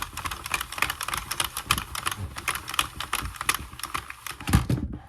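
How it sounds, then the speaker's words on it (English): A handheld row counter clicks repeatedly while a Sentro 40-pin knitting machine is cranked, a quick, crisp clicking sound near and alone. "I will actually click it to keep count of my rows"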